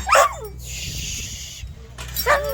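A dog whines and yips in short high bursts at the start and end, with a steady background hum between.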